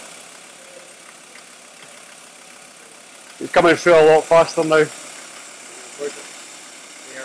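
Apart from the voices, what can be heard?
diesel engine idling, engine note changing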